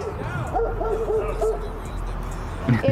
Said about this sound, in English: Snap, it's got an alarm.